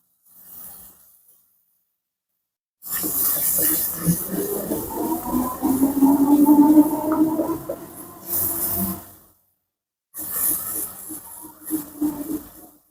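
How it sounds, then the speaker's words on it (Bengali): Spice paste with ground cashew and a little sour seasoning frying in a pan for rohu fish kalia, bubbling and sputtering in two loud bursts separated by short silences. "এখন আমি মশলাটা ভালো করে কষিয়ে নেবো"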